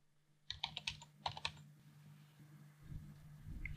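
Fingers tap out a username and password on a computer keyboard, a quick burst of close, crisp keystrokes followed by a pause and a few more faint clicks over a low hum.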